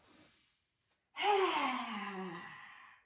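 A single long, loud exhale through the mouth during a yoga flow of arm swings, preceded by a faint short breath, then a pause of silence before the drawn-out breath trails off over about two seconds.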